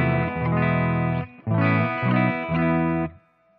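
Sustained electric guitar chords from a Yamaha Revstar ring out through an MJS Hum 4 bridge humbucker, dry switch off, several strummed and held, loud and bright, with a short decay at the end.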